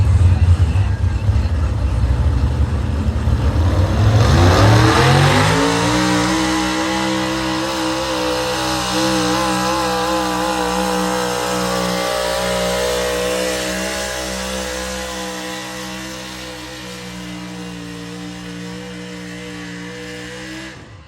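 An aluminum-head 6,000-pound super stock pulling truck engine revs hard, climbing sharply in pitch after a low rumble and then holding a loud sustained roar that slowly fades, heard at an outdoor pulling event.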